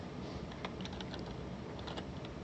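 Typing on a computer keyboard while entering letters into a filterable contact list, a run of quick light key clicks over a steady background hiss, close and moderately soft.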